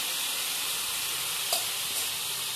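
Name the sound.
potatoes frying in oil in a pan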